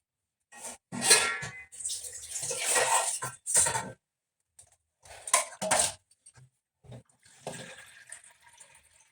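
Cups of water poured into a pot of rice in a home kitchen, several splashing bursts separated by short gaps, close and fairly loud, with a faint clink of the pot.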